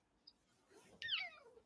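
A cat gives one short, faint meow from nearby in an otherwise quiet room, with no voices.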